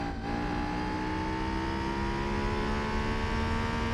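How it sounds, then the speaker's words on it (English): A race car engine in the Gran Turismo 4 video game holds a steady, loud high-revving drone, its pitch climbing slowly and evenly for a few seconds with no speech over it. "the engine sounds are modified in this game"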